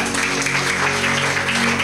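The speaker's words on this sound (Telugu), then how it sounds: "గట్టిగా చప్పట్లు" Dense, loud applause from a large crowd fills the whole stretch, steady and continuous without pause.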